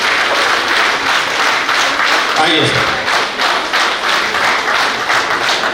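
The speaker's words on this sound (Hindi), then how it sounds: "जोरदार तालियां" Loud, dense applause from a large audience at a grand get-together stage event in Chandrapur, continuous clapping throughout while a host speaks briefly over it.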